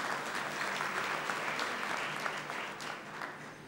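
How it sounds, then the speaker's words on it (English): A graduation ceremony audience gives sustained applause for graduates and their parents, a steady dense wash of many hands clapping that holds evenly throughout. "let all of us give a round of applause to all the graduates and their parents"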